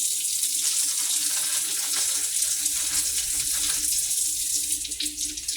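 Tap water runs steadily into a kitchen sink as fruit and vegetables are rinsed under it, a continuous close splashing hiss with no talking.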